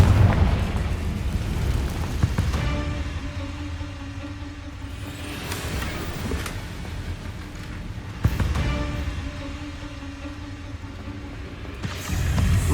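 Confringo fire spell blasting in Hogwarts Legacy, several muffled booming bursts with rumbling tails and sharp onsets, heard alone over a low ambient bed.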